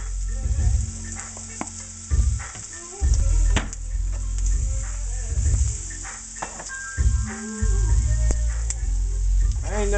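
Potatoes fry in butter in a hot pan, giving a loud, continuous close sizzle and crackle with occasional stirring bumps throughout.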